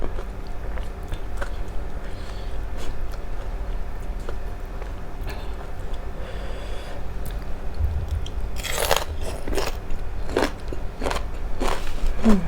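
Fresh bitter melon eaten with Thai papaya salad, loud close crunchy bites and chewing in several bursts over a faint background hum, with no talk.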